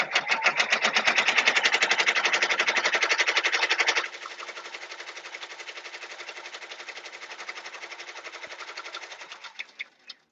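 Embroidery machine stitching an appliqué onto a T-shirt, a fast steady rattling needle rhythm, loud for four seconds then quieter and continuing before slowing to a few final clacks.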